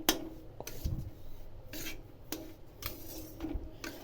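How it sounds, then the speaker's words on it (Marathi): Semolina (rava) being roasted in a pan for ladoos: quiet scraping and rasping of a spoon stirring dry grains against the pan, in irregular strokes with a few light clinks. "हा साधारण आठ ते दहा मिनटं सारखा सारखा रवा भाजत चालायचा"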